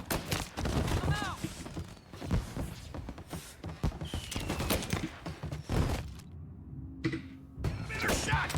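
Gunfire rings out in the Mafia: Definitive Edition video game, with loud, repeated shots and crashing impacts over a dense backdrop of game sound, while voices talk intermittently.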